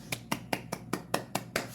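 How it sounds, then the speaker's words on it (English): Seven sharp hand claps in a steady, quick rhythm, close and crisp with a slightly snappy edge, heard alone without talk. "that's a clap if that sounds weird"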